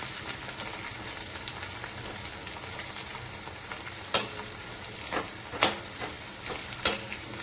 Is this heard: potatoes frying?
yes